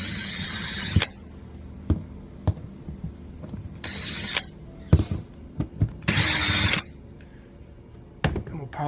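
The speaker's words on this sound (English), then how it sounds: "we'll pilot drill the other hole with a 1/16 like I did the other ones" A power drill with a 1/16-inch bit bores pilot holes in a Ford Econoline van during brake light leak repair, with three short whirring bursts separated by clicks and light handling noises, up close.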